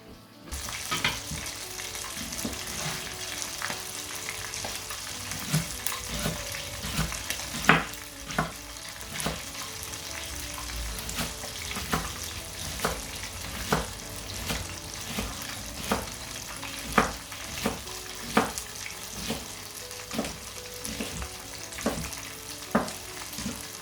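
Steady oil sizzle of fish frying in a pan, with intermittent sharp pops and spatters throughout; no voices.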